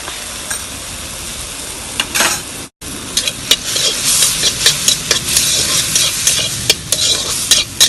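Fish sizzles in a hot pan with salt and turmeric for an Assamese fish curry, stirred with sharp scraping clicks of a utensil over a steady frying hiss, with a brief pause partway through.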